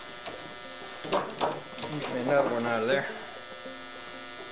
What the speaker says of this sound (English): My light sort of buzzes.